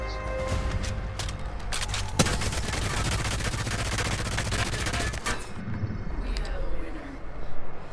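Rapid automatic gunfire rattles in the video game Apex Legends, with dense bursts of shots and a few single cracks. It plays loud and close, with brief pauses between bursts.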